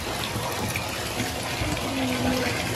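Water pours steadily into a tub for bathing a litter of nine Pitbull and American Bully puppies, a continuous rushing splash with no talking.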